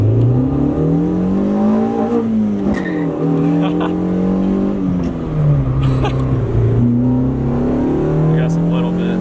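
A Honda Civic's engine revs loudly from inside the car while driving, pitch rising and falling through repeated accelerations and shifts, with people talking briefly over the engine drone.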